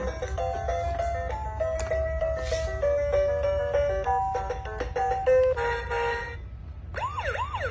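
Electronic toy melody of simple beeping tones from a children's ride-on scooper car, followed by a warbling siren-like sweep near the end, fairly close and steady.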